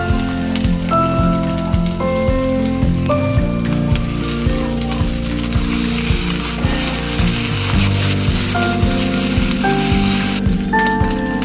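Onion, garlic and ginger sizzle steadily in a hot pan, a loud continuous crackle and hiss that stays close and constant throughout, with no voices over it.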